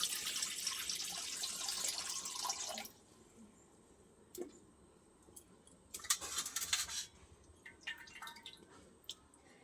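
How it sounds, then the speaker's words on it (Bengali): Water pours into a wok in a steady rushing stream for about three seconds, then stops, followed by scattered metallic clinks and a few brief splashes, all close and fairly quiet. "কড়াই এবার জল দিয়ে দেবো"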